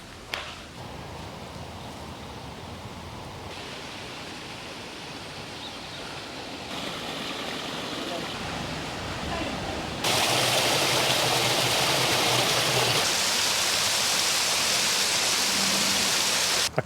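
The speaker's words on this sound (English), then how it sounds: "I crossed the locks on the wrong side so I could get a shot of that waterfall bit." Water pouring over a canal lock weir on an urban canal, a continuous broadband rush that grows louder in steps as the position nears the falling water, steady and alone with no talk.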